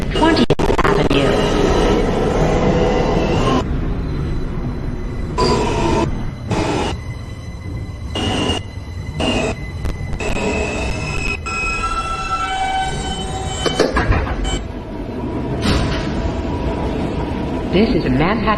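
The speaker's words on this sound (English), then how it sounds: "This is a Manhattan-bound N train." A Manhattan-bound New York subway N train on the Broadway Local run rumbles loudly and steadily, its wheels grinding with recurring high squealing tones and intermittent clanks and rattles throughout.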